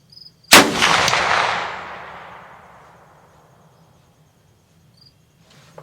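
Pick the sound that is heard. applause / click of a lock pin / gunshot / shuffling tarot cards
gunshot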